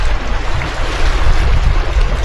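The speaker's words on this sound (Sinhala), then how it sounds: "ස්ලෝවේනියාවේ මුහුද." Sea waves on the beach at Koper, Slovenia, a loud, continuous wash of surf with a deep rumble and steady hiss and no distinct breaks.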